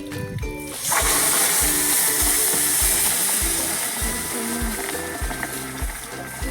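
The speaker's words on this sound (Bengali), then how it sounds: "এবার আমি কড়াইয়ে দিয়ে দিচ্ছি এক বাটির একটু কম চিনি আর জল দেব ওরকম 2 বাটি" Sugar and water poured into a hot wok to make syrup for bonde sizzle loudly and steadily, with a dense hiss. Repeated low knocks of stirring or scraping run through the sound.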